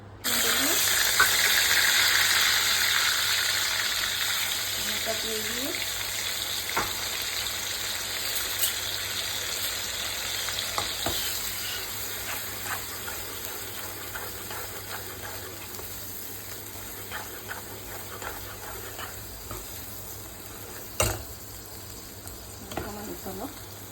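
Prawns in masala paste for creamy chilly prawns fry in hot oil in a pan, a bright, hissing sizzle that starts strong, then settles and thins, broken by scattered pops and crackles.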